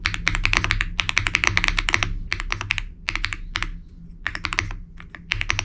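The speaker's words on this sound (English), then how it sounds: "The star of the show is this keyboard." Rapid, crisp clicking of keys on a mechanical keyboard in quick bursts with brief pauses, close and loud, over a low steady hum.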